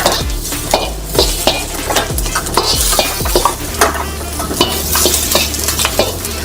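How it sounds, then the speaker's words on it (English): Onions frying in oil in a pan, sizzling loudly and constantly while a utensil stirs them with repeated sharp clanks against the metal. "Add a little bit of oil and onion. Stir until your onions are about a quarter ways done."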